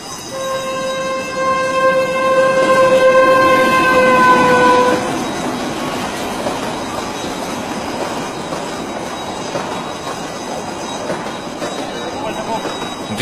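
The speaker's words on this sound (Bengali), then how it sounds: "ট্রেন এসে গেছে, আমি তাকিয়ে আছি ট্রেনের দিকে।" A train arrives at a station, its long horn blaring loudly for several seconds before giving way to the rumbling, clattering roll of railcars and squealing wheels up close.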